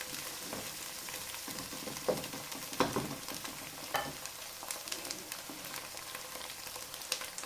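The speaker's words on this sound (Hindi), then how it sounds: "इसको थोड़ी देर के लिए भुनेंगे, 2 मिनट के लिए इसका कच्चापन हम ख़त्म करेंगे" Ginger garlic paste frying in a pot for matar gosht, a steady crackling sizzle with occasional sharper pops and stirring scrapes, close and continuous with no talk.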